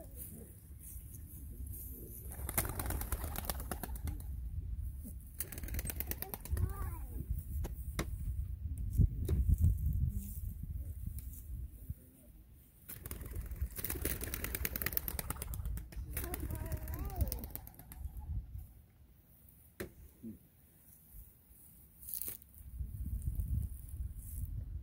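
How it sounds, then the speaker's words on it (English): Doves released at a memorial service in Hermann, Missouri, producing bursts of wing flapping and soft cooing among low thumping sounds, with scattered voices and quieter gaps between the flurries. "Birds will circle and gather together in the sky, begin their journey home."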